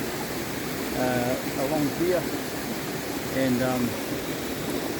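A small waterfall in the New Zealand hills gives off a steady, even rush of falling water, with someone talking over it close by.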